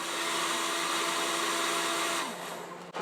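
A heat gun blows steadily, close and loud, to warm and loosen a label inside an acoustic guitar body, running for a few seconds before shutting off.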